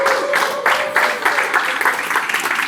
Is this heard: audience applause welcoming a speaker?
yes